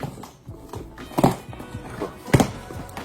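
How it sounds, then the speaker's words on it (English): A few hollow, dull taps and thumps sound on a cardboard box at uneven intervals, with faint handling noise between them. "that's the sound of the box."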